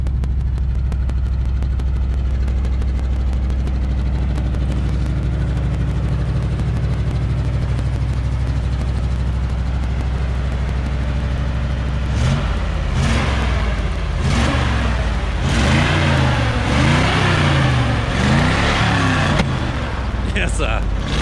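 Old 1973 Ford F-250 pickup engine cold starting, with a steady rough idle for about twelve seconds, then a series of loud revs rising and falling close to the microphone.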